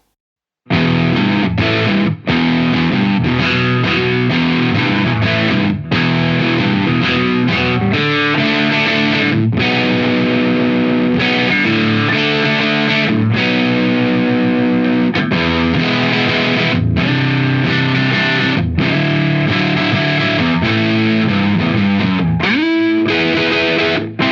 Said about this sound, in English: you can dial in some very high-end subtle drive up to mid-gain rock and roll sounds with it